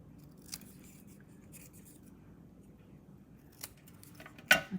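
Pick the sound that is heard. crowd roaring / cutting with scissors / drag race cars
cutting with scissors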